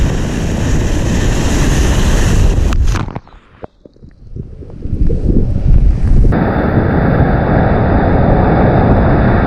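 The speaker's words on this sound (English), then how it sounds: "there's some waves coming a bit over here" Waves breaking over coastal rocks on an offshore island in Central America, a loud roaring surge that dips briefly and swells back, heavily mixed with wind buffeting the microphone.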